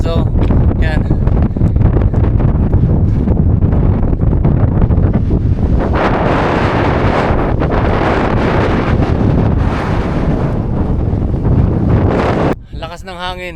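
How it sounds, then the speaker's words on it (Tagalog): Strong mountain wind buffeting the microphone at about 2,297 meters on the Tour de Mont Blanc, a loud, continuous roaring rumble that fills the whole stretch before dropping off abruptly at the end. "Lakas ng hangin."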